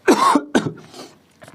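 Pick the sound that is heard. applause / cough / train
cough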